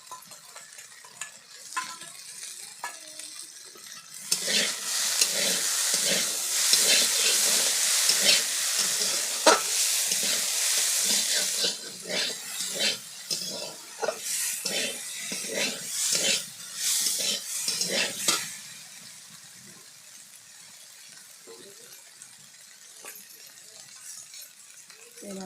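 Greens being stirred in a hot pan, with ground chilli added to frying dheki shak and potatoes: a loud steady sizzle with repeated scraping and clinking of the spoon, which fades to quieter frying near the end.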